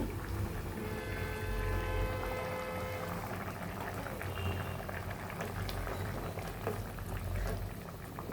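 A drumstick and lentil-dumpling curry simmering in a pot, a soft steady bubbling that runs without a break throughout, faint and close, with no one speaking.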